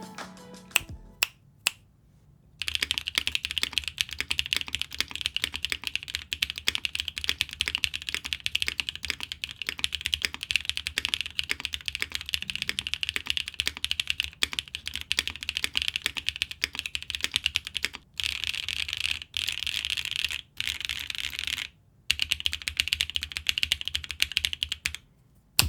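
Steady, rapid typing on a Wind Studio Sin 65 65% mechanical keyboard with JWK long-pole linear switches and GMK keycaps, close and crisp, with a few brief pauses.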